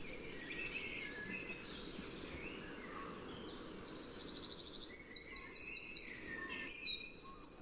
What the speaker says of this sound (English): that wren does seem to be the dominant song this morning